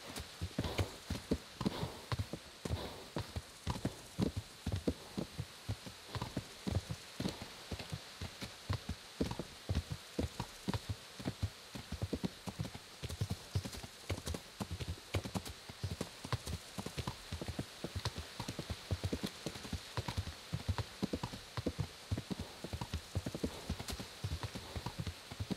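A horse's hooves clip-clop at a steady brisk trot in the medieval video game Kingdom Come, with regular close thuds over a soft ambient hiss, and a neigh or two amid the game sound.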